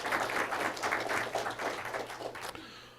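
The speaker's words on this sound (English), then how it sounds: "A round of applause for them." Audience applause at a high school Knowledge Bowl championship, steady dense clapping for about two and a half seconds, then dropping away abruptly.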